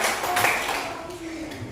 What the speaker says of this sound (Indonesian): tepuk tangan dulu buat semua yang sudah jawab